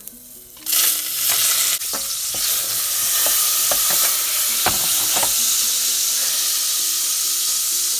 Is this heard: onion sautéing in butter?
yes